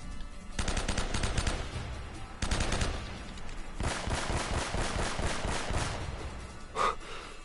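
Rapid bursts of pistol gunfire from the video game Uncharted, fired in several fast volleys one after another and loud throughout, with a brief sharp sound near the end.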